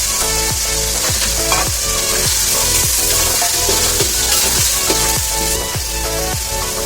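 Chicken frying in a pan with ginger, cumin and turmeric, with a loud continuous sizzle broken by rhythmic scraping strokes of a spatula stirring the meat, close up and with no voices.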